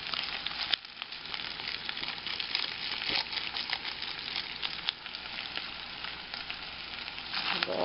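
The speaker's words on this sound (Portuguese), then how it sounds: "Agora é só continuar fritando ela." Steady crackling sizzle of pork frying in a pan over low heat, a dense continuous hiss with small pops, no talking.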